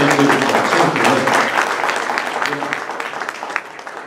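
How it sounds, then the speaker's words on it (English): Applause from an audience for a volunteer at a gathering, a dense burst of clapping that starts loud and gradually thins and fades over several seconds. "we ought to give him a big round of applause for all the things he's done"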